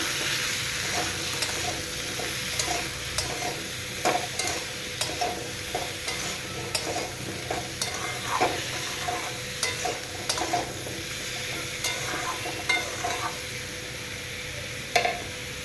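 Mixed vegetables seasoned with salt and turmeric fry in a pan for a Bengali shukto, a steady soft sizzle broken by frequent scrapes and taps of a spatula stirring, close and fairly quiet throughout.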